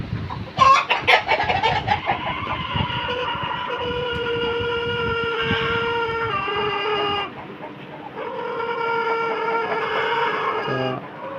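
Chickens kept for sale cluck and squawk close by, a busy run of sharp calls followed by sustained, drawn-out clucking, with no talking.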